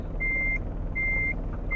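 A Mercedes-Benz Actros pulling a double container trailer in Euro Truck Simulator 2 sounds repeated steady reversing beeps over a low engine rumble.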